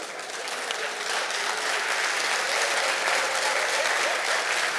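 A crowd at an outdoor political gathering applauds continuously, a thick, even wash of many hands clapping that holds steady at full strength from start to finish without any talking.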